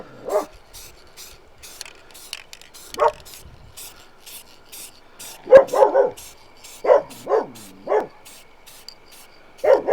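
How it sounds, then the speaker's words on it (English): A German Shepherd and Belgian Malinois mix dog on a leash by a truck barks in sharp, close bursts, first single barks and then quick clusters, with a rattling mechanical sound between them. "Omega does not like that other dog that comes up sometimes."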